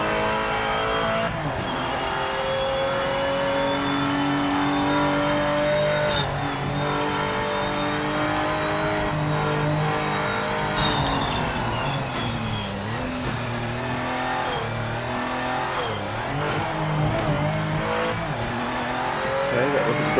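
Race car in Project Motor Racing lapping a circuit, a steady, loud engine drone with shifting revs as it brakes and turns through corners, with light tire squeal mixed in and no talking.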